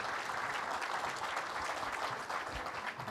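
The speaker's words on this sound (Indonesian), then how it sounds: "Bisa lebih lagi berikan tepuk tangan kemuliaan bagi Tuhan." A congregation at a revival service applauds in glory to God, a continuous wash of many hands clapping, fairly faint and even, with no talk over it.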